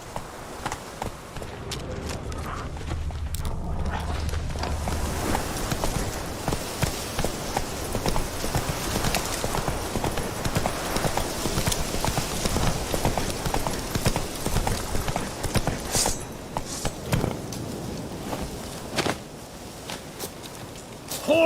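Roach the horse galloping in The Witcher 3: rapid, continuous hoofbeats pounding in a steady rhythm for the whole stretch, loud and close, with game music and ambience beneath.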